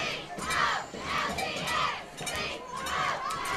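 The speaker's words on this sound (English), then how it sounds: "The crowd getting into it." A high school football crowd shouts and cheers in rhythmic surging waves, loud and massed, rising and falling roughly every second.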